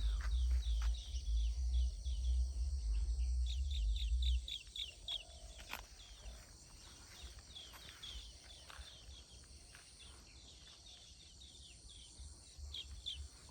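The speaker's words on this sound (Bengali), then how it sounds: "তোমরা একটু পাখির কলরবটা শোনার চেষ্টা করো" Countryside birds chirping in a village, with repeated high, light calls mixed with steady insect buzzing over a faint outdoor background. A low rumbling noise sits under the first few seconds.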